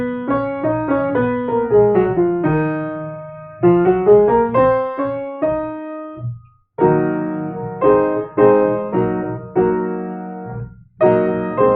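A piano plays a progression moving to a major IV chord within a minor key, with arpeggiated runs and sustained chords in several phrases separated by short pauses, clear and close with no talking.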